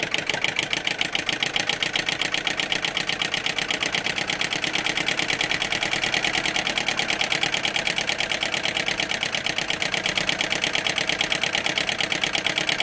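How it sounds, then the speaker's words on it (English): A small James Maiwald flame eater engine with a glass wick runs alone, giving a fast, even train of close mechanical ticks and puffs over a steady hiss. "let's see if she'll fire up"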